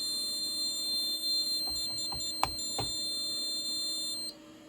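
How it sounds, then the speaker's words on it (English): Entry delay tone from a Scantronic SC800 alarm keypad on partition 2, after a zone is tripped: a continuous high-pitched electronic beep lasting several seconds, with a few soft knocks, then cutting off near the end. "the keypad on partition 2 is emitting an entry delay tone"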